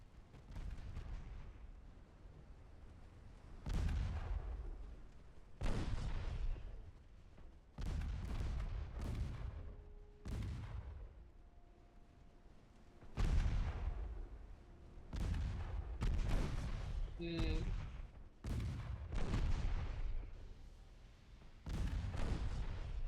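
Naval guns boom repeatedly in Ultimate Admiral Dreadnoughts, about a dozen heavy, deep blasts spaced a second or two apart, each with a rolling tail, over a quiet background.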